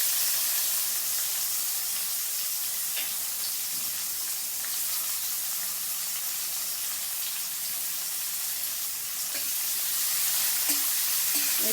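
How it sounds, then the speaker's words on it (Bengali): Chopped onion hits a pan of freshly fried sesame and poppy seeds for a Bengali ridge gourd curry, giving a steady, even sizzle and hiss that runs unbroken, with no talking. "এবার আমি কেটে রাখা পেঁয়াজটা দিয়ে দিলাম।"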